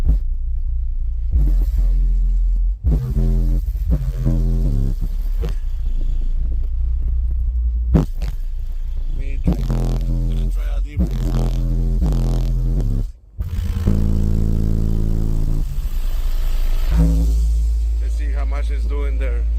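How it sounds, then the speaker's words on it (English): Fi HC18 subwoofers driven by a BC 17k amplifier at 0.5 ohm in a car, pounding deep bass under loud music with vocals, sustained and very close, with brief cutouts between phrases. "that way we're gonna be able to hear bass, see how much is clamping on music"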